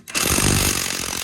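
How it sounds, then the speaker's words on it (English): Impact wrench fitted with a 22mm socket working a ball joint nut off a VL Commodore, a loud, continuous hammering rattle that bursts in after a brief quiet start and runs steadily for over a second. "the 22mm socket, on a rattle gun"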